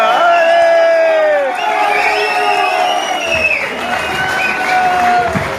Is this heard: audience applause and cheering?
yes